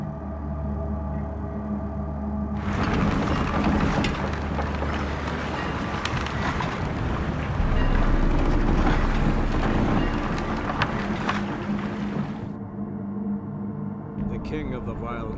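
A ship sets sail at sea in The Witcher 3, a broad rush of wind and water rising to a steady, loud wash that swells midway and then drops off sharply near the end.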